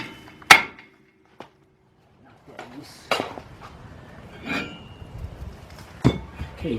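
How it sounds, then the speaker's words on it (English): A big hammer strikes an old brake rotor on a 2003 Lincoln Navigator, giving a loud metallic clang followed by several lighter knocks and clinks spread across a few seconds, with brief rustling between hits. "So what we're going to do is get our big hammer."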